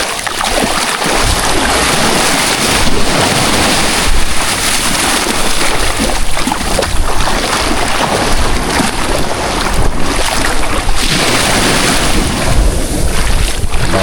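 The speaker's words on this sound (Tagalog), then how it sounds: "Maalon." Rough sea churns around a boat fishing at night, a loud, continuous wash of waves and water spray mixed with heavy wind buffeting the microphone throughout.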